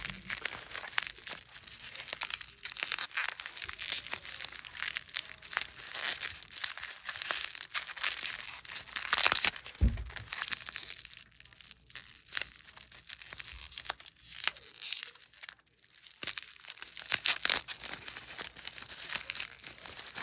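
Gift wrapping paper crinkles and tears as puzzle cubes are unwrapped, with long stretches of close, busy rustling, sharp rips and crumpling for about twenty seconds, no talk.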